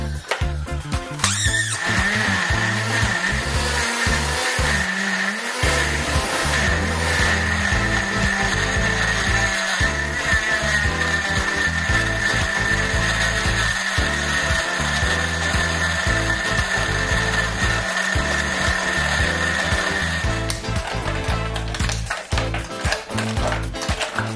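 A blender churns mango, lime juice, sugar and lots of ice into a slush, a loud continuous motor whine with rattling, grinding ice chunks throughout, close and uninterrupted.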